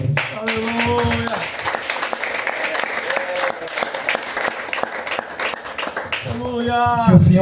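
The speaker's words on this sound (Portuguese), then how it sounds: "Palmas para o Senhor." A church congregation bursts into sustained applause during a worship service, dense clapping filling several seconds, with voices speaking and calling out over it at the start and the end.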